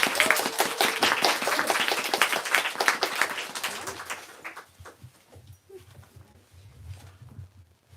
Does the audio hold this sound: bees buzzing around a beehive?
no